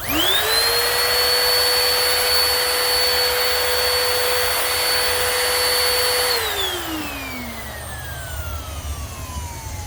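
A Bissell CleanView Rewind 1322 vacuum cleaner motor whirs up quickly into a loud, steady high-pitched whine, holds for about six seconds, then winds down with a falling tone into a quieter background hum.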